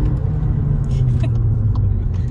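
A Skoda Fabia car drops a gear on the road, giving a steady, close low engine rumble with a slight rise in revs and no clear break over a short stretch.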